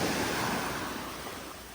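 Noisy sea waves roll in as a steady broadband wash of surf, fairly loud and close, with no voices over it.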